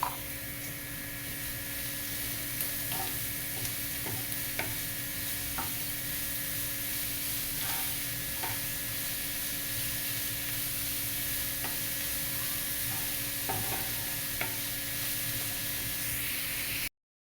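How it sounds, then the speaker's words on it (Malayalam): Masala frying for beef pickle in a pan gives a steady, even sizzle that lasts throughout, with occasional light clicks and scrapes from stirring. The sound is close and moderate, with no voices. "ഇവിടെ മസാലയെല്ലാം ഇവിടെ മൂത്ത് വന്നിട്ടുണ്ട്."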